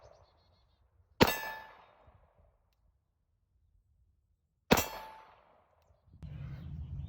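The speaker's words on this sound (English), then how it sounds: "Two 9mm shots." Two separate 9mm Glock 19 rounds strike a Level 3 steel armor plate outdoors, each a sharp ringing clang a few seconds apart that decays quickly, followed by low rumbling noise at the end.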